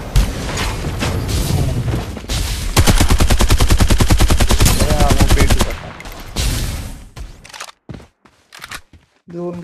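Gunfire in the video game Farlight 84: scattered shots, then a long, loud burst of rapid automatic fire in an even rhythm, trailing off into a few separate shots and short bursts near the end.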